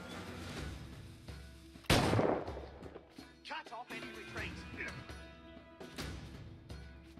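Grenade explosions in a video game, with one loud, close blast followed by several sharper, smaller bangs and crackles scattered over several seconds.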